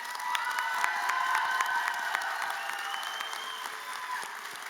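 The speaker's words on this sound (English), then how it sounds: "Let's give a round of applause to Claudine, and certainly another round of applause for our graduates" Sustained audience applause fills a graduation ceremony hall, steady and moderately loud, with a few cheers mixed into the dense clapping.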